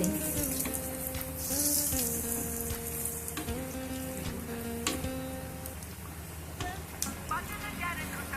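Aloo bonda, potato fritters, fry in oil with a continuous bubbling sizzle and crackle, while a voice speaks over it and occasional clinks sound from the pan.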